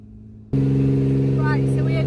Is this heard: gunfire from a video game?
no